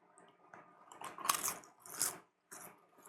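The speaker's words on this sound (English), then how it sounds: "can you guys hear the crunch?" Homemade barbecue potato chips crunched between the teeth, three loud close bites with a fainter crunch before them, spaced by short pauses.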